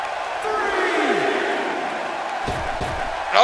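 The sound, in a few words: wrestling crowd cheering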